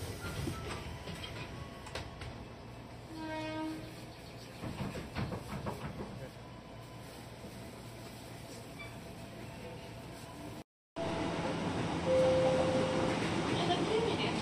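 Inside a KRL commuter train travelling between Jakarta stations, a steady rumble and rail clatter run beneath quiet voices, with a brief chime and a short cutout partway through.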